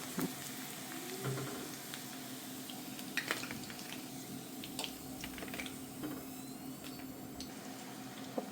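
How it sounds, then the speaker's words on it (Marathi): Cassava chips frying in hot oil give a soft, steady sizzle, quiet and close, broken by occasional light clicks and taps of a utensil. "हे आता आपण ह्या तेलामध्ये तळून घेणार आहोत"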